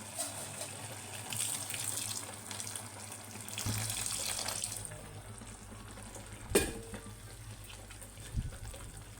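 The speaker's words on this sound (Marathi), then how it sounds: "आता यात मी पाणी घालते अजून थोडंसं घालते पाणी" Water pours steadily into a pot with a rushing splash, followed by a couple of sharp clanks near the end.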